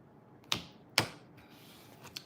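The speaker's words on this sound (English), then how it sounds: "One more shuffle, and I'll split the deck." A tarot card deck is shuffled and split, producing two sharp, close card slaps followed by a soft riffle and a faint flick, with no one talking.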